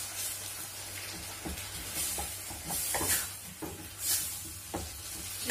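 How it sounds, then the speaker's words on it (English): Fried gizzard being stirred into a sizzling pan of dodo (fried plantain), a steady frying hiss with scraping stir strokes and small clatters, close and continuous. "We have to add our fried gizzard to it. And we stir together."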